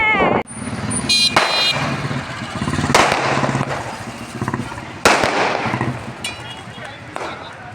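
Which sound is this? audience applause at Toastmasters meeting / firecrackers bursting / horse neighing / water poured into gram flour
firecrackers bursting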